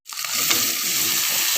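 Onion, garlic and pepper hit a hot pan for pork afritada, setting off a sudden loud sizzle that swells within a split second and then holds as a steady, close, hissing fry.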